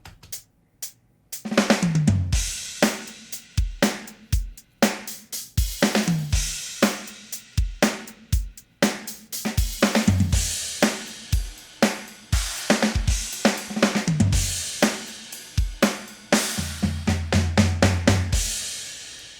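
A full drum kit groove from the free MT Power DrumKit 2 VST plugin: punchy kicks, snare hits and crashing cymbals in a steady rock rhythm, loud and alone, with a short fill near the end.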